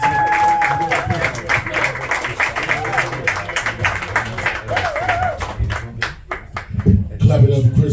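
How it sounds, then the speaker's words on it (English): A comedy show audience claps and cheers over loud background music, the applause continuing throughout before the music shifts near the end. "Give a nice round of applause for Mr. Mo Green."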